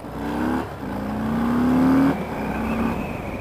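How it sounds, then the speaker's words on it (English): A 2018 Harley-Davidson Fat Bob motorcycle with a 114 cubic inch engine drones up close, its pitch climbing under throttle with brief drops between shifts, with no speech. "it does have a traditional Harley sound"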